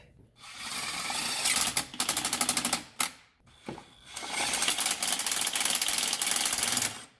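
Impact wrench run at low torque on the clutch fork bolts of a 2009 Subaru Forester, giving two loud, close bursts of rapid mechanical hammering with a short pause between them.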